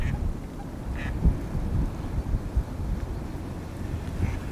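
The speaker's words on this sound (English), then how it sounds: "this wind blowing left to right" Wind at a fishing lake buffets the microphone in a steady low rumble, with faint distant bird calls in the background.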